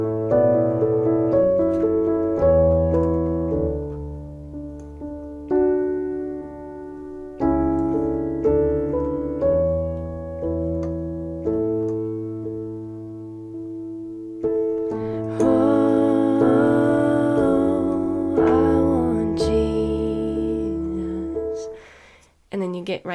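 Solo piano plays the introduction to the worship song "I Want Jesus" with full sustained chords and a melodic line that moves in phrases, growing brighter and busier toward the end before one final struck chord.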